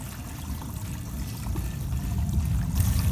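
Water pouring steadily through the spray bar of a gold concentrator, a loud continuous rushing hiss that swells slightly toward the end, with no talk.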